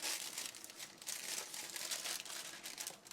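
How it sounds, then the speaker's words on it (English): A sheet of baking paper is pulled and crinkled in a home kitchen before baking chicken, giving a continuous close, papery crackle with small irregular bursts throughout. "let me just get a sheet of this paper"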